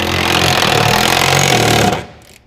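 Power tool, likely an impact wrench, tightening a bolt from the top on a Flyin Miata frame rail during a turbo Miata build, one loud rattling burst of about two seconds that cuts off abruptly.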